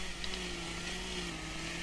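A chainsaw in a Farming Simulator 2013 forestry mod runs at a steady, loud drone with a constant buzzing hum and no pauses, heard alone throughout.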